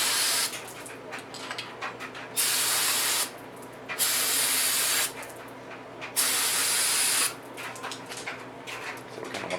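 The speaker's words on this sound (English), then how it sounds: "And we just simply spray them out." Carb cleaner hisses from an aerosol can onto a Predator 3500 generator spark arrestor in four loud, steady bursts of about a second each, separated by short breaks filled with softer spattering and dripping.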